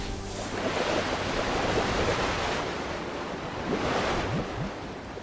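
Water powers effect in the video game Royale High, a continuous loud rushing, surf-like wash of water noise that swells and fades over several seconds, with no talking.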